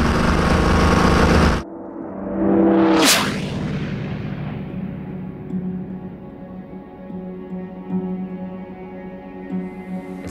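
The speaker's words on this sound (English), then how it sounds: "You have an engine that is screaming loud in front of you." Loud, steady roar of a WWII plane's piston engine heard from inside the cockpit, rising sharply early on, then droning continuously and close.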